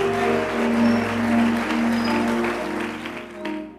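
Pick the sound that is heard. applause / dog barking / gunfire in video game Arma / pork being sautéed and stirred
applause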